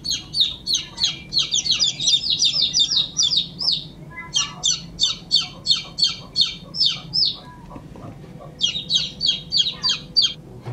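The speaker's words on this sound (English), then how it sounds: "So if your chicken make this sound, this means that your chicken needs attention." A chicken gives an attention-seeking call, bursts of rapid, high squawking clucks repeated in three long trains with short pauses between, loud and close with no talk over it.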